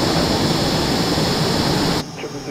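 Jet engine of an F-117 Nighthawk stealth aircraft in Microsoft Flight Simulator, a loud steady broadband roar that cuts off sharply near the end, leaving faint quiet background.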